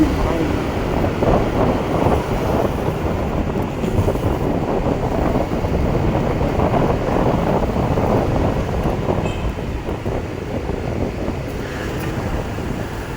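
Wind gusts steadily across the microphone in a broad, rushing roar in Mindoro, Philippines, with faint voices underneath.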